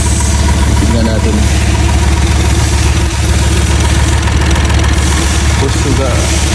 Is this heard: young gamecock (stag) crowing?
no